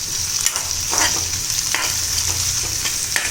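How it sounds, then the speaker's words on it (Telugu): Filling for street-style rolls fries in a pan until golden brown, a steady close sizzle broken by the periodic scrape and clack of a spatula stirring. "ఎంతసేపు ఫ్రై చేసుకోవాలంటే జస్ట్ గోల్డెన్ బ్రౌన్ వచ్చేంత వరకు ఫ్రై చేసుకోవాలంటే"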